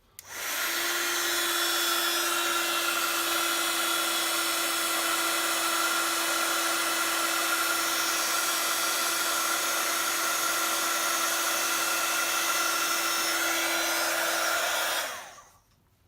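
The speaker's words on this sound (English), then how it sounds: "And then just bring in your heat tool and emboss away." A heat tool for embossing blows a loud, steady whirring hiss with a constant whine, running close and unbroken for about fifteen seconds before switching off.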